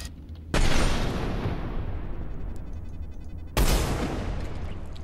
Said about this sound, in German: Hört euch diese Schüsse an, meine Fresse.